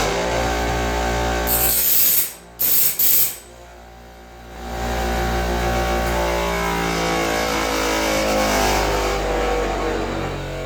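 A grinder spins up and grinds the gullet of a sawmill band blade with a sustained whirring, rasping tone; a brief clatter and pause break in early before the steady grinding resumes, close and loud.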